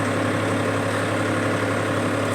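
A tractor engine idles in a steady, even low drone throughout, close and continuous with no voices over it.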